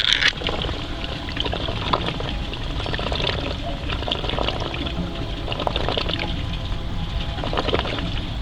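Water drains out of an aquaponics grow bed as its siphon cuts off, a continuous gurgling, slurping rush with air being sucked in, heard close, while a voice talks faintly at times.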